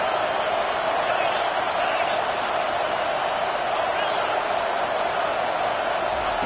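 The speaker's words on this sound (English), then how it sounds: "This crowd is trying to inspire this defense to make a big red zone stop" A football stadium crowd roars steadily for the defense during a red zone stand against Texas, a dense, constant wall of noise that holds at the same loud level throughout with no breaks.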